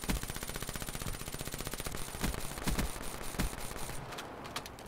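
Rapid pistol fire in the video game Black Ops 3, a fast stream of sharp shots in an even rhythm lasting the whole stretch, loud and up front with a few heavier reports standing out.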